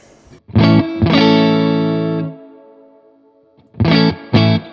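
An electric guitar plays through an Orange amp with a Tone King Imperial preamp, lightly overdriven, in two sustained, ringing chords that fade out, then two short stabbed chords after a pause.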